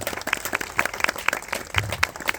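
An audience at a comedy event answers a show-of-applause question with scattered, uneven clapping, individual claps standing out in a loose rhythm rather than a dense roar.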